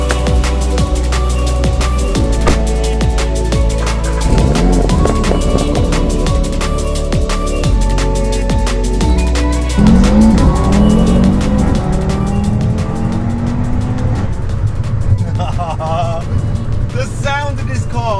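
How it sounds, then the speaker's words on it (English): Audi RS five-cylinder single-turbo engine on the road, a loud steady drone from inside the car with revs rising and falling through gear changes and a whistling turbo toward the end. "The 5-pot Audi RS engine. It's a single turbo, and it sounds absolutely unreal."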